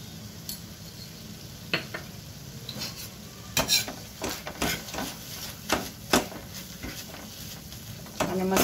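Spices for street-style tawa pav bhaji are stirred on a hot tawa, giving soft sizzling under scattered sharp scrapes and clinks of a utensil against the metal, close and fairly quiet.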